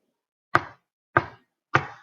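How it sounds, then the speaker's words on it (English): Three evenly spaced, sharp knocks on a wall behind a mirror, close and distinct, each a hollow rap with a short decay and silence between. "Knock, knock, knock. A mysterious sound came from behind the mirror."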